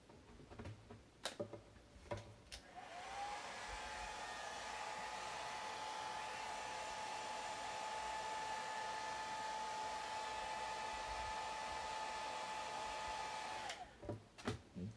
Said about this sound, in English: I'm going to hit this with the hairdryer for just enough to cure the top layer.